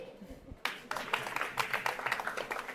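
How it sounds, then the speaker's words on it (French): Audience in a congress-hall conference room breaks into applause after a brief pause, a scattered, moderately sized crowd clapping with distinct individual claps. "Et on la re-applaudit."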